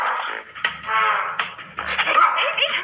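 A person imitates a dog barking in a string of yelps and whimpering, bark-like cries, loud and close with no other speech.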